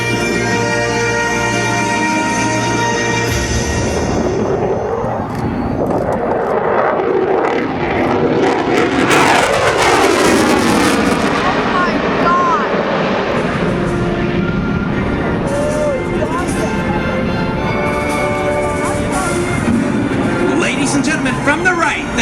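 A jet fighter making its final high-thrust pass at a military airshow at Joint Base Andrews, a loud sustained roar that swells and shifts pitch as it goes by, with an announcer talking over it.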